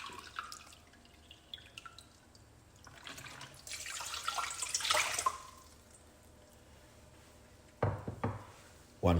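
Water pouring from a tap into a medium pot in a kitchen, a few seconds of rising splashing flow, followed by scattered drips, knocks and clatter.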